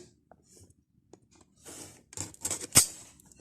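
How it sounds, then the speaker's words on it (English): Razor blade slicing through tape on the box of a 2009 Vodafone 840 phone, a few faint scratches building to a short run of sharp, close cuts and scrapes, ending in a crisp snap. "I'm going to get my razor blade and cut it"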